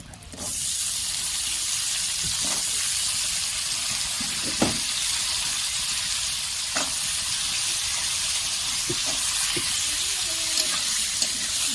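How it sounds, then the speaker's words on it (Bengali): Potatoes frying with onions in a pan for a Bengali prawn and potato curry, a steady loud sizzle running throughout with occasional stirring scrapes and soft clicks, no talk. "এগুলো একদম লাল করে ভেজে নেব।"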